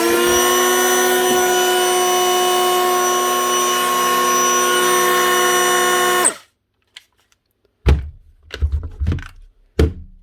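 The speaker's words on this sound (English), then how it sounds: "One Makita cordless planer with a burnt up switch replaced." A Makita cordless planer with a newly replaced switch whirs at a loud, steady high pitch for several seconds, then winds down, followed by a few sharp knocks and handling thumps.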